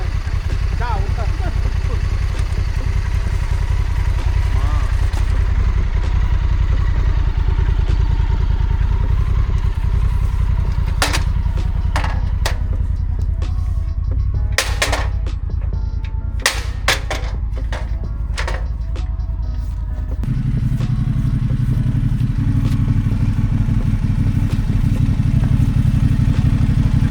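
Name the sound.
motorcycles being loaded onto a trailer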